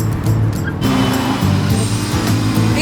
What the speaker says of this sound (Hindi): इतनी तेज गाड़ी चलाना कानूनी जुर्म है।